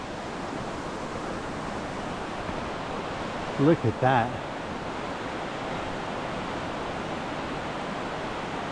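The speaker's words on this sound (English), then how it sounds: "Waterfall coming out of the mist." Wahclella Falls in the Columbia River Gorge pours down in damp, misty conditions, a broad steady rush of falling water filling the scene from start to end, with someone briefly speaking over it.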